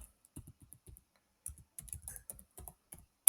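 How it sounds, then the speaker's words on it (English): A computer keyboard being typed on, with short bursts of crisp key clicks in irregular clusters, a quiet pause, then a faster run of keystrokes ending in one louder tap. "So let me type PowerPoint."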